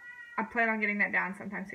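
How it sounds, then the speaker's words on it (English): A domestic cat meows indoors, a clear drawn-out nearby meow that overlaps someone talking. "if you hear my cat meowing"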